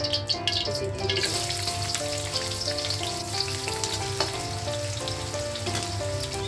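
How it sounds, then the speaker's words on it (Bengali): Chopped onion, green chili and garlic sizzle loudly in hot oil in a pan, a steady close crackle of frying with no voices over it. "পেঁয়াজটা লাল করে ভেজে নেব।"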